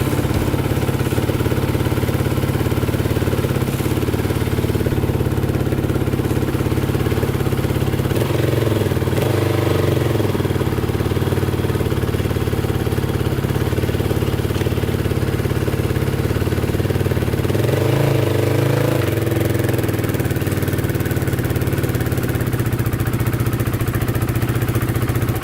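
A Polaris Predator 500cc quad's engine runs steadily and loudly up close as the machine moves, a continuous mid-pitched rumble with two brief swells in load.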